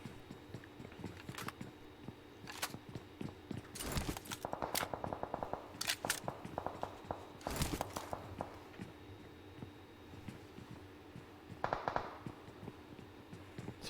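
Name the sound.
gunfire in a battle royale video game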